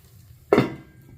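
A metal lid clanks down once onto a pan where a sponge dosa is cooking, a single close, sharp clatter that rings briefly and fades.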